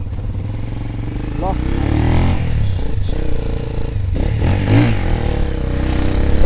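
A motorcycle engine revs and pulls away loudly and steadily as riders set off, with the rumble swelling slightly while people talk over it.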